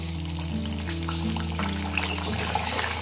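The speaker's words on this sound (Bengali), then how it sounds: "এবার গ্যাসের ফ্লেমটাকে লো টু মিডিয়াম রেখে এই লুচিগুলো আমি ভেজে নেব।" Semolina luchi fry in hot oil over a low-to-medium flame, giving a soft, continuous bubbling sizzle with light crackles over a steady low background hum.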